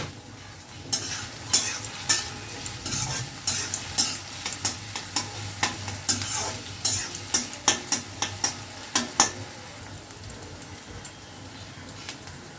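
Chopped garlic sizzles in a hot pan while a spoon stirs it, giving a steady fry with a quick run of crisp scraping taps, close and loud, that fades out toward the end.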